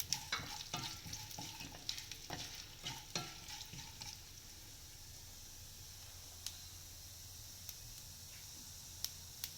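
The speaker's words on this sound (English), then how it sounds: "In the same pan, I have added some oil and I am going to temper all this." Mustard seeds, urad dal and chana dal tempering in hot oil in a pan, crackling and popping with sharp spatters early on that thin out to occasional isolated pops over a faint sizzle.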